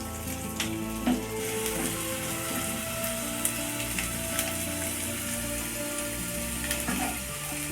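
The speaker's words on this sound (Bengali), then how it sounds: "আপনাদেরকেও ঠিক এইভাবে হালকা হালকা করে একটু এটা ভালোভাবে কিন্তু ভেজে নিতে হবে" Malai kofta mixture of paneer frying in a pan, a steady close sizzle throughout with faint scraping and stirring clicks now and then.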